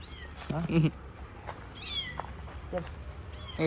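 A cat meows twice, close and fairly loud, with a few fainter chirping sounds after and some quiet background noise.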